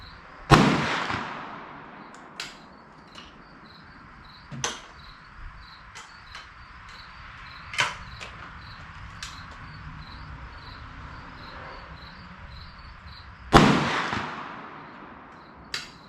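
A New England Firearms SB1 single-shot shotgun fires .410 three-inch slugs outdoors, with two loud sharp reports about thirteen seconds apart, other distant shots cracking at a range, and crickets chirping steadily throughout.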